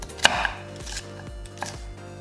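A knife cuts cabbage on a cutting board for a black bean sauce dish, producing about five distinct, close chopping thuds at an uneven, unhurried pace with no talking.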